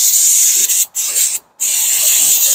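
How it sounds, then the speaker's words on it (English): Brake cleaner sprays onto a rear brake rotor of an Infiniti QX50 in loud, close hissing bursts, with two short breaks between sprays. "spray some brake cleaner."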